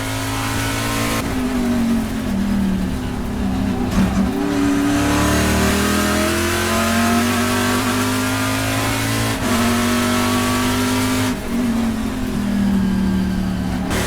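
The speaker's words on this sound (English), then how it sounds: "We're now on board with the Osseo Data TRB Autosport Ford Mustang of Barry Bowes." Onboard a Ford Mustang Trans Am race car at Laguna Seca, the engine howls close and loud, climbing through the revs and dropping sharply at several gear shifts, alone with no talk.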